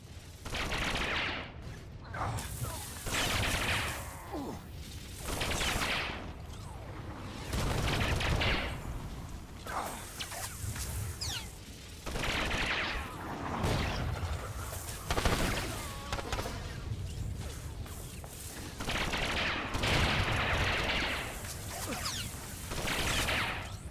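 Heavy assault cannon fire in a Star Wars: The Old Republic battle on the toxic planet Quesh, with dense, repeated bursts of shots and blasts running steadily throughout, loud and close.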